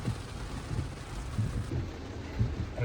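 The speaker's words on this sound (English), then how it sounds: "It's rainy right now." Steady soft rain patters on the outside of a 2026 Tesla Model Y, heard from inside the cabin as a faint, even hiss with light wind noise and no talking.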